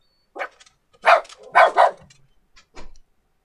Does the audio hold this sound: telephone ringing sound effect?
no